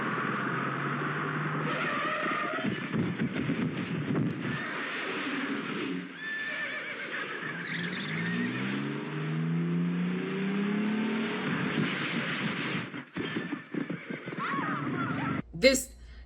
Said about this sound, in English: we have this clip from a movie where an Indian man is riding a horse and he drifts